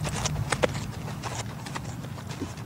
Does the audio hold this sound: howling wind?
no